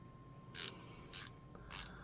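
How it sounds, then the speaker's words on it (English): A Japanese stubby indexable round flex head ratchet clicks in three short, crisp bursts spaced roughly half a second apart, close and quiet against a faint steady background hum. "these Japanese indexable round flex head Stubby ratchets"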